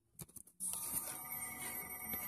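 A telephone rings in a farmyard setting with pigs, a bright continuous trilling ring that starts after a few soft knocks and carries on steadily, fairly faint in the background.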